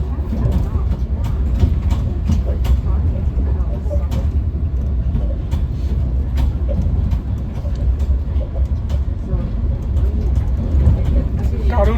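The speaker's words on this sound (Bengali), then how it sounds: "মহাসাগরের পার দিয়ে চলছে ট্রেন।" A steady, loud rumble of a passenger train running along the ocean shore between Galle and Colombo in Sri Lanka, heard from inside a carriage with continuous rattling and voices talking nearby.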